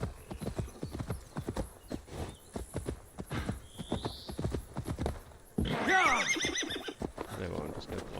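In Assassin's Creed Valhalla, a horse gallops with rapid, loud hoofbeats and then lets out a clear, drawn-out neigh, while someone talks over the action.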